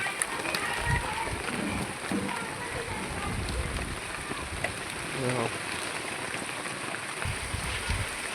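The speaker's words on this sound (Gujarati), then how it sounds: "જો દેખાય છે વરસાદ તમને" Rain falls steadily on a Gujarat village, a dense, even patter that holds for the whole stretch while voices talk over it now and then.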